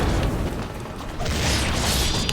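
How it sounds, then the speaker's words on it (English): Explosions in the video game Ninja Gaiden 2 on Xbox One X fill the clip with a dense, continuous roaring blast that swells louder halfway through, with no talking. "All these explosions."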